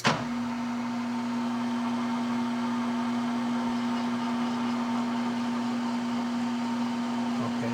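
A lathe cuts threads on a gun barrel in a machine shop, a steady motor hum with a sustained tone and a faint cutting hiss, close and continuous after a brief start.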